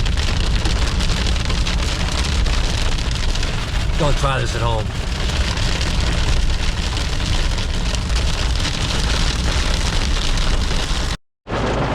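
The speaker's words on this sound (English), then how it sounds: "And not to mention, it's hailing right now." Hail and heavy rain batter a vehicle traveling on the Dempster Highway toward the Arctic Circle, a dense, steady hiss and patter filling the clip under a man's brief spoken remark, ending abruptly.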